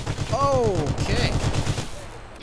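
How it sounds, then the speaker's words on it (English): Rapid gunfire in the Fallout 4 video game crackles in quick bursts, near and loud, with a voice exclaiming briefly over the shots and a faint rumble trailing off. "Why am I being shot at?"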